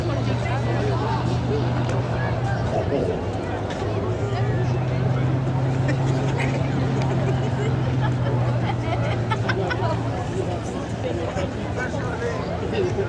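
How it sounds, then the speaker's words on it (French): A Spitfire's Rolls-Royce Griffon engine runs as the aircraft taxis on the ground at an air show, a steady deep drone heard from a distance beneath crowd chatter and a commentator's voice. "Et écoutez le son du Rolls Griffon."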